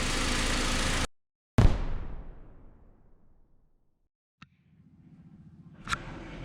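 A 2004 Honda Civic EM2 with the D17 engine idling while it warms up after a timing belt and water pump replacement: a steady idle drone cuts off, a loud thump fades away, then the idle returns.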